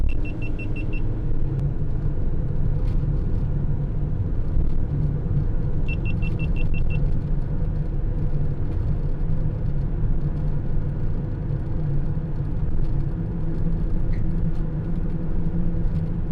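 Steady low road rumble fills the cabin of a 2015 Mercedes-Benz Vito 111 CDi van, with wind and roof-rack drone and a few brief high electronic beeps near the start.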